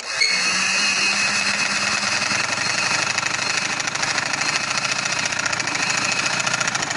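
Sewing machine stitching fabric for a capri pocket, a loud continuous rapid mechanical chatter with a steady buzzing motor running for the whole stretch, close up and without any talking.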